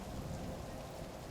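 Steady rain falling, a continuous dense hiss and patter with a low rumble beneath, no voices.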